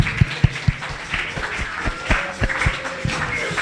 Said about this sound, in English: Keep on clapping, keep on clapping.